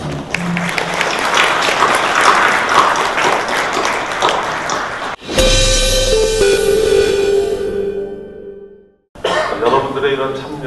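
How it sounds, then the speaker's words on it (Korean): Audience applause at the closing of a UNESCO Creative Cities strategy forum in Seoul, loud and sustained from a full hall. It breaks off abruptly and gives way to a brief musical fanfare, then the clapping returns. "나오실 때 큰 박수로 맞으시기 바랍니다."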